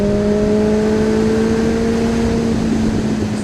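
A Yamaha FZ1 motorcycle engine revs under hard throttle, its pitch climbing steadily as it accelerates out of a turn. The loud, continuous drone is close and carries on alone with no voices.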